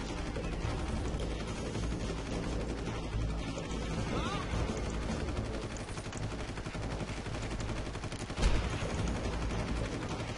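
Rapid video game gunfire in Far Cry, continuous bursts of automatic shots layered densely for the whole stretch, with one louder blast near the end, while a player talks faintly underneath.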